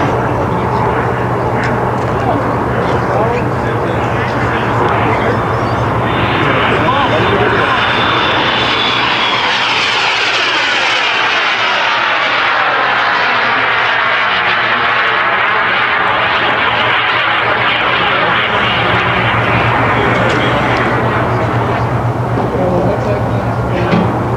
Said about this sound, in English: 4-point hesitation roll, 1/4 scale T-38 Talon. This is being flown right now.